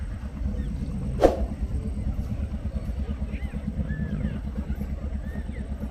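Tourist launches motor past on a river in the Sundarbans, a steady low engine rumble and churn running throughout, with one sharp brief knock near the start and faint birdsong above.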